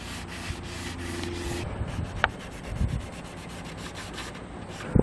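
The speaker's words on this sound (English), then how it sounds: "grab another disc to just sand the rest at the waterline and around corners" Close, steady hand sanding with a sanding disc along a boat hull at the waterline and around corners while preparing the bottom for barrier coat, making a continuous dry rubbing scrape with a few light knocks, no talking.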